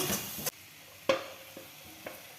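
Potatoes drop into a hot pan of aloo curry and set off bursts of sizzling frying, with a few sharp stirring scrapes over a constant hiss, close and without talk.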